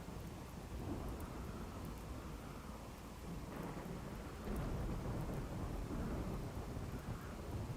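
Thunderstorm in the video game RimWorld: a continuous roar of heavy rain mixed with low rolling thunder, swelling louder partway through and staying dense and close with no voices.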